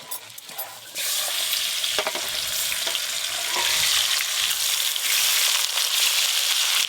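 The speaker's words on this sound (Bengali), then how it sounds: "এইবার একবার সব ভাজা হয়ে যাবে রে" A big batch of rupchanda pomfret frying in oil, a soft crackle first, then a loud, close, steady sizzle that swells further partway through, with occasional clacks of stirring.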